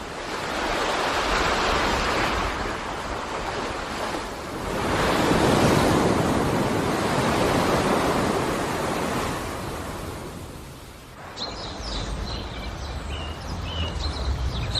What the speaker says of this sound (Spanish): El mar, que fascina con su inmensidad de agua a los habitantes del desierto.